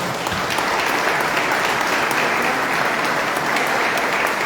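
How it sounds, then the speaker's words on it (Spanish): A crowd applauds the composer Marcelo Flores at a Bandeño folklore and tradition event: continuous, even clapping from many hands, sustained without a break. "Pido un aplauso para él."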